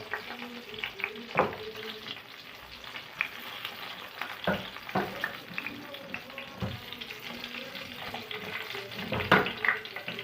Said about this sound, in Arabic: وهنقطعه ونقليه كده